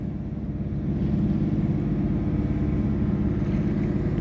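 A tugboat side-towing a small barge off Bahrain sends a steady, low, rumbling drone across the water, moderately distant and unchanging throughout, with no talk.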